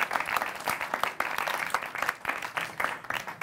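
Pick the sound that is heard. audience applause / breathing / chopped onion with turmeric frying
audience applause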